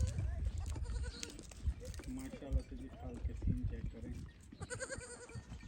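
Goats and sheep bleat at a rural farmstead enclosure, several scattered calls mixed under ongoing conversation between people nearby.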